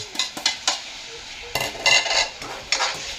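Chicken liver and gizzard adobo stirred in its sauce, a spoon clinking and scraping against the pot in several separate bursts, close and fairly loud, with faint sizzling underneath.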